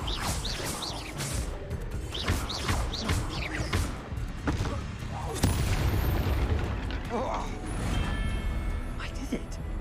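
Confringo fire spell blasts in Hogwarts Legacy, a series of booming bursts and crashes with crackling impacts amid combat noise, with voices speaking during the fight.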